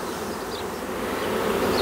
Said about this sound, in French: On va continuer de transvaser les abeilles parce que les abeilles c'était en provenance de la souche là.